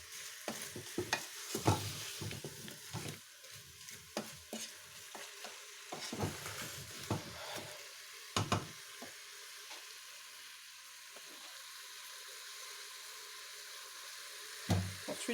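Apples, butter and cane sugar are stirred in a pan with a soft sizzle, while a spoon scrapes and clacks in irregular bursts, close and moderately quiet, with no talking.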